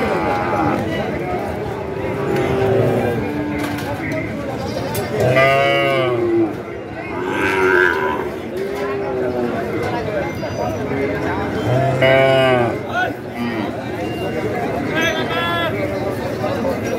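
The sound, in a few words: Sahiwal breed calves mooing at a cattle market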